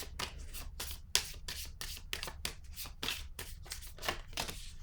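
Cards sliding and being drawn from a tarot-style deck, a series of quick papery swishes and flicks close by, fairly quiet with no talking.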